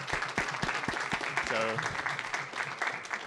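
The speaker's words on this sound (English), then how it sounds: "Please give a round of applause." Applause from a conference audience greeting a best paper award winner at CHIL 2023, a moderate, steady patter of clapping with a brief voice or tone heard faintly beneath it midway.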